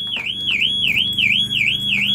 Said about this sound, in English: it's going to set the alarm off